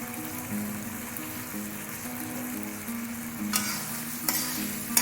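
Cabbage with garam masala stir-frying in a pan for a Bengali-style muri ghonto: a soft continuous sizzle with faint stirring, punctuated by a couple of louder scraping bursts near the end, while music plays quietly underneath.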